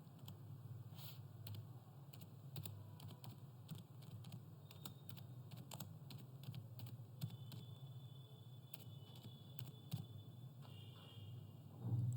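Computer keyboard typing while writing JavaScript code, a quiet steady patter of key taps continuing alone over a low background hum.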